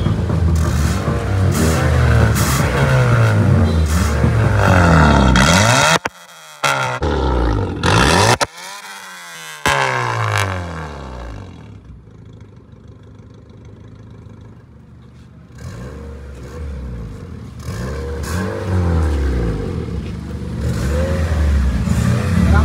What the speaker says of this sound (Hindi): तो भाई एग्जॉस्ट लग गया है, चालू हो गया है।